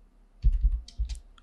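A few quick keystrokes on a computer keyboard while typing a command, soft close clicks in two brief bursts over a quiet background.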